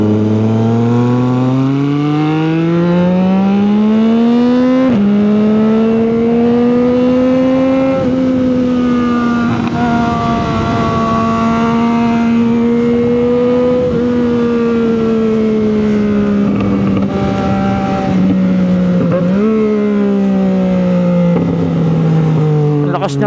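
A CFMOTO 675SR-R sport motorcycle roars around a race track, its loud, continuous engine drone rising and falling in pitch, with sharp gear-shift breaks near the start, middle and end.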